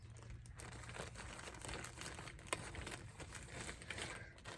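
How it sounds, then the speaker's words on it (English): A thin plastic bag crinkles softly and steadily through a quiet indoor moment, with one sharper rustle partway in, faint and close with no talk. "I think I might need to get another plastic bag because this one has been through the ringer."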